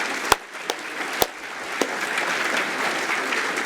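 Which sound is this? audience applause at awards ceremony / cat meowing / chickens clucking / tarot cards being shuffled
audience applause at awards ceremony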